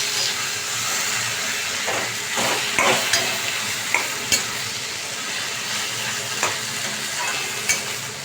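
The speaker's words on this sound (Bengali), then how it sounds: "দিয়ে এবার আমি বেশ করে নাড়াচাড়া করবো।" Chickpea dal and taro greens with turmeric being stirred in a pan, with a constant frying hiss and repeated sharp scrapes and knocks of a spatula, close and loud, no talking.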